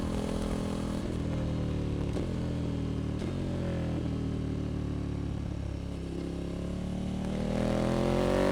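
KTM Super Duke 1290R motorcycle riding fast, its engine droning loud and steady with rising and falling revs and gear shifts, close up throughout, alongside other sport bikes.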